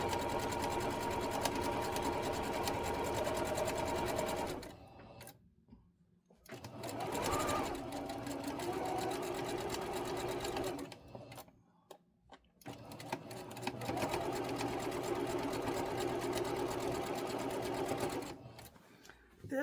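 A sewing machine stitches long quilt strips for a queen-size quilt in a steady, humming mechanical whir that runs for several seconds at a time and stops twice for brief pauses.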